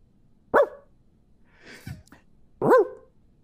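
Two sharp dog barks, close by, separated by a pause with a softer rustle between them.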